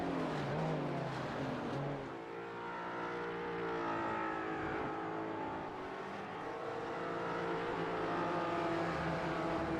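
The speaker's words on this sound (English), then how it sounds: "Especially when we get to watch GT4 cars go round and around." GT4 race cars lapping the Imola circuit in the iRacing video game, engines droning and revving through gear changes in a continuous dense roar, at moderate volume, with no talking.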